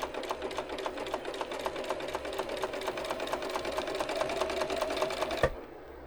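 A sewing machine stitches steadily with a rattling bobbin case, a fast even clatter running close and loud for about five seconds before stopping abruptly.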